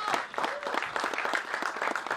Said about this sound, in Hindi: प्लीज एक तालियां इनके लिए होनी